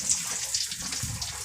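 Curry leaves dropped into hot oil where mustard seeds have been popping, for an Andhra-style mutton curry, give a steady close hiss of frying with faint crackles, no talking.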